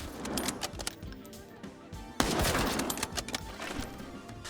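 Rifle shots from a Mosin bolt-action rifle in the video game Arena Breakout Infinite, a loud sharp report standing out above a busy, noisy game soundscape, with a second strong blast midway through.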